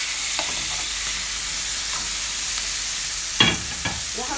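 Tomatoes and peppers go into a pan of frying Alexandrian sausage. A steady hiss of frying runs throughout, with a few sharp scraping and clattering bursts near the end. No one talks.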